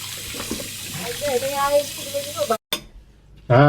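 Tap water runs into a sink while dishes are rinsed, with clinks and splashes, a brief voice over it, then a pause and the water resumes.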